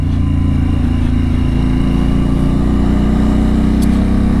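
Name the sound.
Harley-Davidson Pan America motorcycle engine on mountain road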